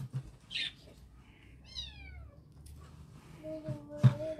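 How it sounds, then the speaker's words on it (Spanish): Cats meow a few times in short, high calls, with soft background rustling and a faint voice near the end. "Ahí están los gatitos, mire."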